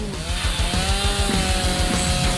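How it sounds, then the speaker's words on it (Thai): An electric saw cuts through the middle of something in a kitchen cooking challenge, with a loud, close, buzzing rasp that pulses in a fast, steady rhythm as the blade strokes back and forth. "ทีนี้เอาเลื่อยไฟฟ้าของฉันออกมา ตัดตรงกลางออกไปเลย"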